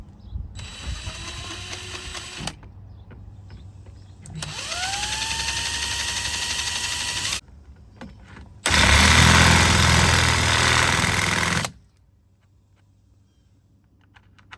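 A power drill with a 9 mm bit whirs in several separate bursts drilling a hole in a Sprinter van, its motor pitch rising as it spins up, with pauses between runs and a loud final stretch.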